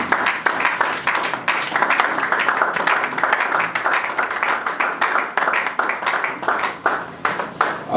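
A church congregation applauding together, sustained rhythmic clapping from many hands filling the room loudly and evenly, with no one speaking over it.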